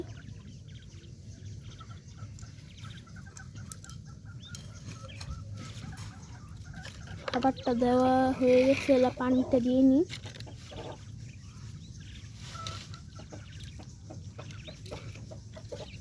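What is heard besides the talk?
young quail chirping while being fed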